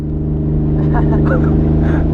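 A drift car's engine bounces off the rev limiter during a winter drifting event, giving a loud, steady stuttering drone heard from inside the car, with people talking over it.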